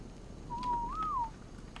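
A single human whistle, a smooth sustained tone that rises slightly near its end, heard clearly over a faint noisy background with no talk, while players are busy in the game ARK.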